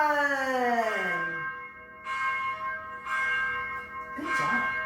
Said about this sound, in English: May the bell of justice ring